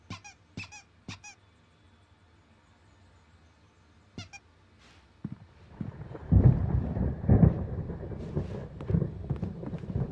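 In the video game Alan Wake, a few sharp squeaks and clicks come first, then a thunderstorm rolls in as deep rumbling thunder that swells and grows loud through the second half of the clip.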